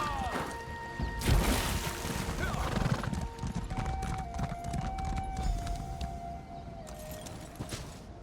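Horse neighing in the fantasy game Elder Scrolls Online, a whinny with a drawn-out tonal call, set among clip-clopping hooves and ambient game sounds, fairly close and moderately loud, with no talk over it.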